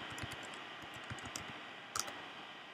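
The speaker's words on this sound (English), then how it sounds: "To open up Terminal, I'm going to press Command Space to get the spotlight, and then I will type in terminal." Quiet key taps on a Mac computer keyboard, a scattered run of light clicks with a quick cluster near the end, faint and with no talk.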